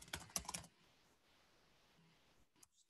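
Keystrokes on a computer keyboard as a bucket name is entered while setting up AWS storage: a quick burst of close clicks at the start, then near silence with a couple of faint taps near the end.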